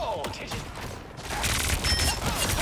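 Starlord's guns firing in the game Marvel Rivals, dense rapid shots and impact bursts building into loud continuous fire amid busy battle effects, with a voice talking over it.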